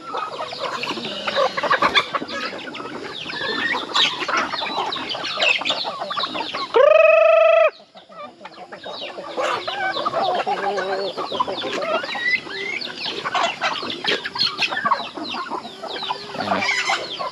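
Geese approaching across a farm, giving a dense, continuous stream of harsh, overlapping honks and cackles, with one loud, drawn-out tonal honk midway.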